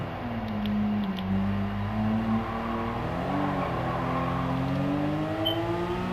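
A Toyota Supra with a standard transmission drives in the racing game Gran Turismo 7, its engine note rising and falling through gear changes at a moderate, steady level with no talk over it.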